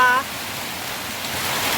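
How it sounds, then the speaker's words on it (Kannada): A short burst of steady, heavy rain pouring down over village paddy fields, a continuous wash of hiss right after a brief voice at the start. "ಅಯ್ಯೋ ಮಳೆ ಅಂದರೆ ಹೆಂಗೆ ಹುಯ್ತಾ ಇದೆ ನೋಡಿ"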